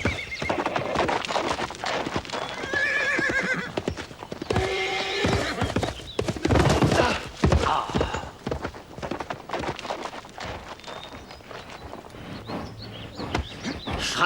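A horse on a western ranch neighs repeatedly and stamps its hooves amid scuffling and commotion, fairly close, with a faint bird chirp in places.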